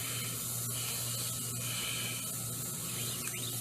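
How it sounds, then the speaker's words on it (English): A steady hiss of flat black aerosol primer spray runs continuously at close range outdoors, with a constant low hum in the background. "All I'm doing is just going over it, spraying it flat black."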